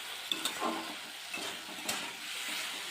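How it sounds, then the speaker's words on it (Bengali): Kochur loti (taro stolons) with mustard paste being stirred in a pan: a soft steady sizzle with a few scraping stirring strokes, fairly quiet. "সব কিছু নেড়ে ভালোভাবে মিশিয়ে নিয়েছি।"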